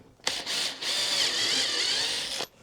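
A power drill bores a hole through wood for a wood-and-canvas canoe, a quick spin-up blip, then a steady high whirring grind for about two seconds before cutting off, close and clear with no talk.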